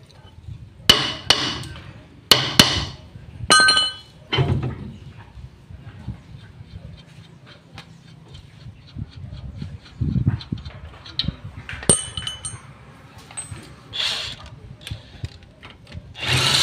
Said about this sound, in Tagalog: ihugutin na po natin itong kanyang axle